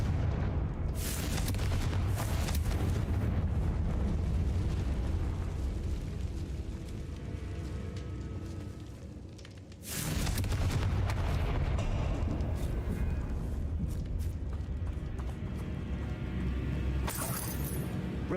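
Fire-spell explosions from a wizard video game roar loud and dense, one sustained blast running for several seconds, a brief dip, then a second equally heavy burst with crackling debris, no talk.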